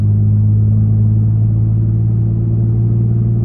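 Steady low engine drone of a Toyota Tacoma pickup truck in Sport Mode, cruising in fourth gear and slowly gaining speed from 43 toward 55 mph, constant and close, with no talking.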